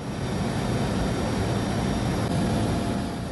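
An Indonesian Air Force (TNI Angkatan Udara) helicopter flies over a landslide-hit river area, its engine and rotor making a loud, constant, broadband roar with no breaks, heard close up as if from inside the cabin.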